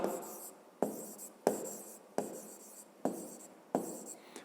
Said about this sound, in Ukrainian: Пишемо собі парта